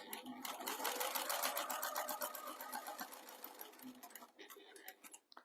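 A sewing machine fitted with a walking foot runs a quick line of stitches, a fast rhythmic whirring chatter close by that slows and stops near the end.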